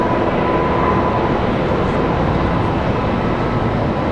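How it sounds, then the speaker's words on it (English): A JetBlue Airbus A220 pushing back from the gate at Raleigh-Durham International Airport, a loud continuous engine rumble and roar holding steady with a faint tonal whine. "Got our JetBlue A220 pushing out"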